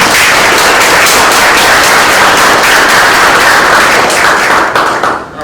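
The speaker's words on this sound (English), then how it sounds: "let's give them a big round of applause." A senior living legislative forum audience breaks into loud, dense applause, steady clapping from many hands that holds throughout and begins to fade at the very end.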